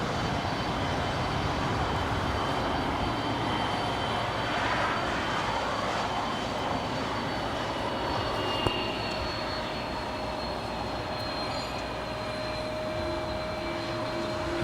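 An airliner taxis at Los Angeles LAX airport, a constant loud jet-engine roar with a thin high whine running steadily through, no voices.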